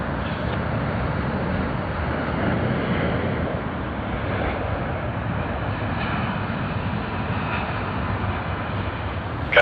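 Jet engines of a United aircraft at Sydney Airport make a steady, broad roar that stays loud and even for the whole stretch, with no voices over it.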